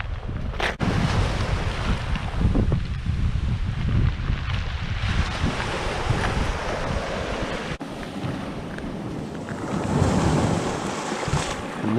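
Atlantic Ocean surf breaking on a black volcanic sand beach on La Gomera, a steady loud wash of waves with heavy wind buffeting the microphone throughout, no voices.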